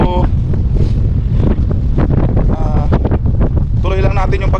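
Steady, loud wind buffeting the microphone, a constant low rumble with voices talking over it.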